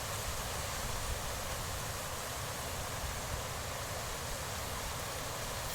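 Rushing mountain torrent heard from the top of a slope above the water, a dense, even broadband roar that holds steady throughout with no voices.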